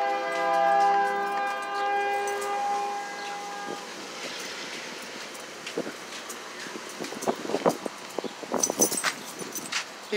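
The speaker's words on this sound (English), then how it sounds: "We got a train." Canadian National locomotive 5418 backs up through Effingham, Illinois, opening with a loud sustained multi-note horn blast, followed by rumbling wheels and sharp rail clanks and clicks growing busier as the cars roll past.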